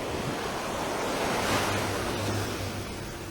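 Ocean surf rolls steadily off a Barbados reef near Fitts Village, a continuous broad wash of waves with wind noise on the microphone, fairly close and even throughout, with no talking.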